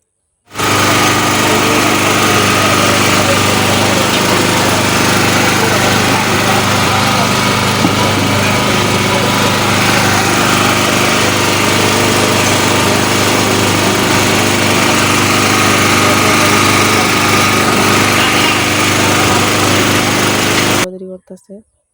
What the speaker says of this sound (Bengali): আজকে কারেন্ট নাই, তার কারণে কিন্তু জেনারেটর চালায়া তারপরে করা কাজ করতেছে।